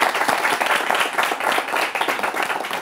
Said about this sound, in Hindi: यूथ के लिए ताली हो जाए